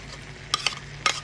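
Chicken stirred with tomato paste in a pan for chicken caldereta, heard as a few brief scraping strokes over a quiet sizzle.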